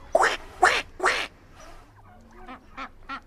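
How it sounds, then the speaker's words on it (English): A duck on a farm gives three loud, close quacks in quick succession, followed by several softer, shorter quacks trailing off. "We saw a duck across the way. And what do you think we heard it say? Quack, quack, quack."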